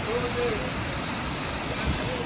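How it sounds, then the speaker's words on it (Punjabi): Waterfalls spilling beside the mountain road to Sach Pass give a steady, close broadband rush of falling water that holds at an even level throughout, with a faint tonal whistle drifting over it. "ਝਰਨੇ ਹੀ ਝਰਨੇ"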